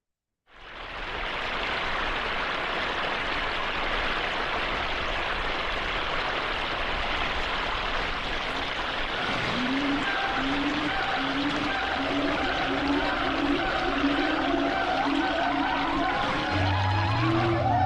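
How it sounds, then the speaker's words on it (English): An AI-generated soundscape of a waterfall in Thailand: a broad, steady rushing roar of falling water, joined midway by a repeating series of chirping or whistling calls and a low tone near the end. "If you ask for a waterfall in Thailand, you might come up with a mix like this one."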